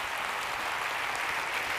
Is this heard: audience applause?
yes